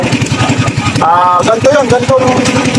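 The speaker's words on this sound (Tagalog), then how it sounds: "So, yan, mamatay ang aking makina." A fishing boat's engine idles with a steady low chugging throb that keeps running through the stretch, while someone talks over it nearby.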